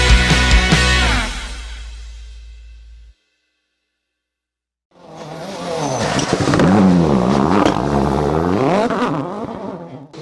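Rally cars race around the Cadwell Park circuit: one car roars loudly past and cuts out, then after a silent gap another engine revs up and climbs through gears, close and loud.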